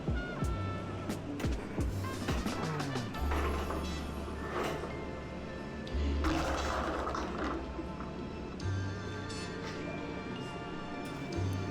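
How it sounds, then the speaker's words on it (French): A Brewzilla 65L Gen4 brewing system's recirculation pump runs at full speed, driving wort around against a cooling coil with a steady low hum and continuous sloshing, gurgling water, and a few faint clinks. "j'utilise la pompe de recirculation à fond et je l'oriente vers le bord"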